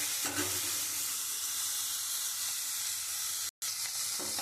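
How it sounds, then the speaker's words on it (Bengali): Crabs deep-frying in hot oil until red, a dense, continuous hiss and crackle of sizzling with a faint scrape near the start, steady throughout except for a brief dropout. "আমি কাঁকড়াটা একদম লাল করে আমি ভেজে তুলে নেব।"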